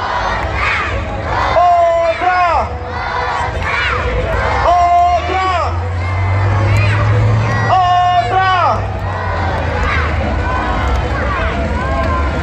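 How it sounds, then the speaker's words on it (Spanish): Crowd roaring and cheering at a monster truck show in Mexico, a dense, steady wall of noise under a loud, excited announcer voice calling out across the arena. "Tranquilo, Master Police. Fuerte el aplauso."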